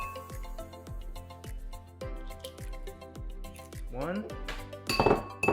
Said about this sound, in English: we're gonna crack 3 eggs in here